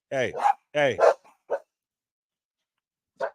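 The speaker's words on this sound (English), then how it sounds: "I got two crazy ass dogs in this motherfucker right now" Two dogs bark indoors, a quick pair of sharp double barks followed by a few shorter yips and one isolated bark after a pause, close and loud.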